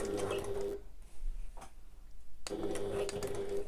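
Sewing machine stitching around a curve on a backpack, a steady motor whir that stops for about a second and a half at a pivot and then resumes, fairly quiet and close.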